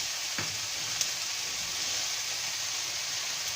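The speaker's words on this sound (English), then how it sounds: "add capsicum into it. This capsicum will cook with these tomatoes" Capsicum cooking with softened tomatoes in a pan gives a steady, close hiss of sizzling, with a soft knock near the start and a brief click midway, and no voices.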